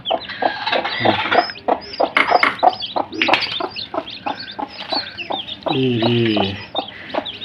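Several local desi hens cluck in quick, choppy bursts close by, with a person speaking briefly over them near the end.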